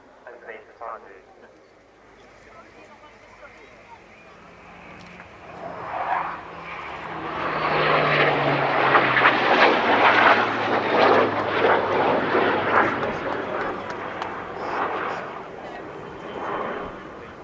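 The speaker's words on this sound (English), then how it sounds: "This is effectively the first half of that Synchro pair display, 3 passes in formation followed by a break." Synchro pair jets make formation passes at the Cosford airshow, a distant roar swelling to a loud broad rumble and slowly receding, while a voice talks over the start.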